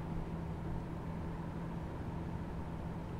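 Class 37 diesel locomotive in Train Simulator 2017 on a Norfolk line, giving a steady, continuous engine drone with a constant low hum throughout, alone with no talk.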